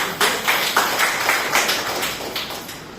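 An audience applauds at an award ceremony honoring gold medal, national achievement and Bharat Gaurav award recipients. Scattered, fairly close hand claps sound in loose bursts for a few seconds.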